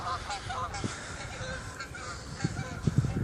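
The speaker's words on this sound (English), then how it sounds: "there's the geese making a racket" A flock of geese honks outdoors in scattered, overlapping calls, moderately near, with the racket growing busier toward the end.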